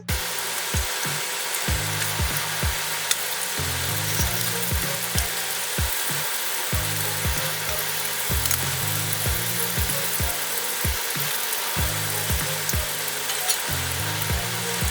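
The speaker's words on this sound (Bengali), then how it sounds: "আমরা ফ্রাই করতেছিলাম খুব সুন্দরভাবে এবং কি আমাদের ফ্রাই প্রায় শেষ পর্যায়ে চলে আসছে" Chicken pieces fry in hot oil in a pan near the end of cooking, giving a steady, close broadband sizzle with a rhythmic low thumping running underneath throughout.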